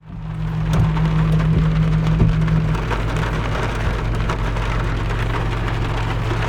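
Heavy rain falls in a steady, dense patter close by, with a low droning hum beneath it that drops away partway through.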